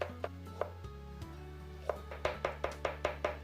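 A knife chops scallions on a cutting board, a run of crisp, evenly spaced thuds that starts sparse and becomes a steady rhythmic series of about eight close, clear strikes over a low background hum.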